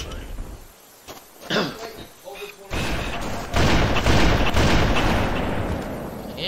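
Grenade blasts and gunfire in a Halo 3 online match: scattered thumps and booms, then a loud, sustained stretch of shooting and explosions, with voices in the mix.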